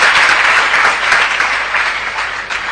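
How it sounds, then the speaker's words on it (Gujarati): Audience applause at a BAPS religious discourse, a steady dense wash of many hands clapping close by for a few seconds, loud and even throughout. "તમે તાળી પાડી પણ આજે આપું તો એક જ આવે."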